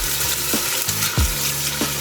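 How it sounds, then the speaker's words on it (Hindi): Food frying in ghee in a pan, a steady close sizzle with soft scraping stirs recurring about every half second, no voices. "इसको उस वक्त तक हम भूनेंगे जब तक ये अपने बबल्स बनाना ना छोड़ दे"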